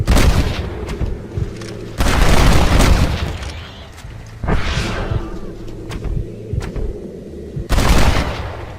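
Gunfire erupts in Red Dead Redemption: Undead Nightmare, loud repeated booming shots and volleys in bursts, with brief lulls between heavy clusters of blasts.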